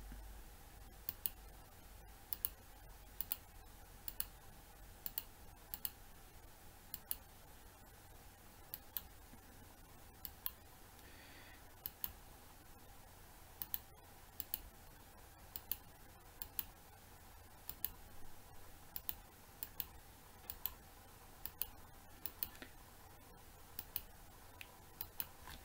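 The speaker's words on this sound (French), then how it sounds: "Je vais cliquer à chaque point." A computer mouse clicks point by point across an online map to trace an elevation profile: sharp, faint, isolated clicks at irregular intervals over a low steady hum, close and quiet.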